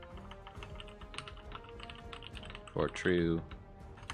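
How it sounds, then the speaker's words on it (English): Rapid clicking of computer keyboard keys during a live-streamed coding session adding block types, with quick, close keystrokes running throughout and someone speaking briefly near the end. "I can type for true and false values."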